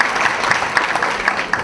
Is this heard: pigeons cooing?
no